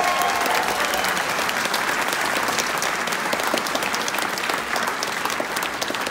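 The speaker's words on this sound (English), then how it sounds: "Give them another round of applause." Dense, sustained applause from a concert audience for a middle school jazz band, a thick continuous wash of many hands clapping, loud and steady throughout with no talk.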